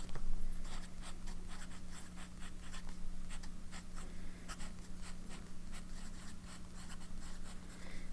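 A Lamy Studio fountain pen with a medium nib scratches across paper in close, quiet strokes, with steady short scraping bursts and a faint constant hum underneath.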